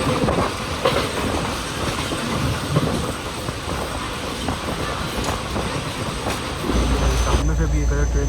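An express train on Pakistan's ML-1 main line between Mirpurkhas and Karachi rushes past at good speed, its wagons rumbling and wheels clacking loudly and continuously before the roar shifts near the end, with faint talk mixed in.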